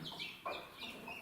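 A broody hen with her chick makes soft, low clucking noises close by, a few short murmuring calls in quick succession.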